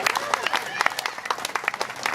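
An audience at a mayoral candidate's gathering gives a short round of applause, individual claps distinct and uneven amid light crowd noise.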